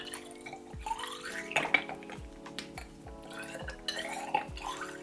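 Water is poured into the small tubes of a plant propagation station, with soft trickling and several light clinks of glass, quiet and close.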